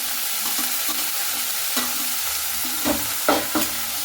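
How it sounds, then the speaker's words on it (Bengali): Pointed gourd vines sizzle in hot oil with browned onions while a spatula scrapes and stirs them in repeated strokes, loud and close with no voices. "পটলের লতিগুলো দিয়েও 2-1 মিনিট একটু এইভাবে ভেজে নিতে হবে।"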